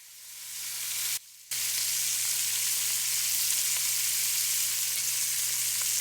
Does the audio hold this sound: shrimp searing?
yes